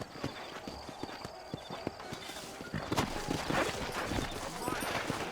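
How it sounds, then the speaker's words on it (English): Horses walk through a frontier town in the Red Dead Redemption video game, their hooves clip-clopping in a steady, uneven rhythm on hard ground, close and clear. "You ain't gonna find sturdier horses than these in all of New Austin."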